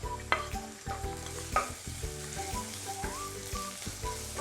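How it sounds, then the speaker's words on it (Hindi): Grated ginger, grated garlic and green chili sizzle steadily in hot oil while a utensil stirs and scrapes the pan, frying for hot and sour soup; close, continuous crackle with no talking. "ग्रेटेड अदरक, ग्रेटेड लहसुन, हरा मिर्च डाल के फ्राई कर देते हैं।"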